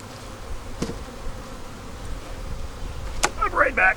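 Honey bees buzzing around a beehive during post-harvest splits, a faint steady hum with individual bees passing close, plus a few sharp handling knocks and a brief voice near the end.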